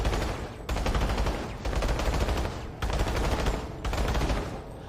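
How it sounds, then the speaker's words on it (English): Burst-fire gunshots in Planetside 2, with rapid clusters of three to five shots in four loud bursts separated by short gaps and no talking. "let me show you burst fire"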